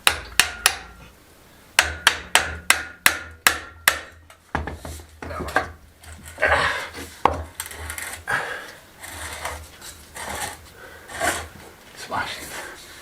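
Hammer striking wood during outdoor patio and garden building work, a quick run of sharp close knocks followed by looser scraping, tapping and handling noises, with people talking in between.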